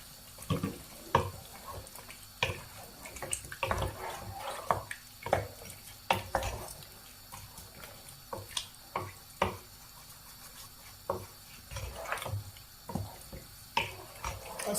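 Water splashing and dribbling into a pot of ogbolor soup on the stove, irregular drips and pours with light clinks of a spoon or pot, close and fairly quiet, no talking.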